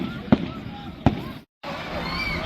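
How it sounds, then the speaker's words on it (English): A cannon fired at an outdoor Christmas tree lighting ceremony, two sharp booming blasts about a second apart over crowd chatter, with people talking nearby. "I think that was a cannon."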